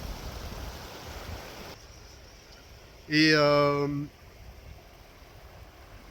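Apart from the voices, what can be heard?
calm mountain river flowing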